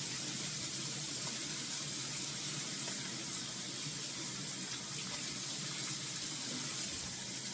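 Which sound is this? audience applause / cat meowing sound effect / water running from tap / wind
water running from tap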